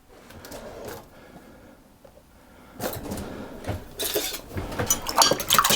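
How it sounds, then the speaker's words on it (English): Eggs and an extra egg yolk being whisked into milk in a bowl, starting quietly and building into a quick, rattling whisk-against-bowl rhythm that grows louder over the last few seconds, with no talking. "I'm going to put my eggs into my milk and the egg yolk, the additional egg yolk, and I'm going to whisk those together"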